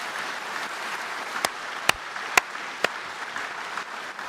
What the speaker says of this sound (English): give her a great big round of applause.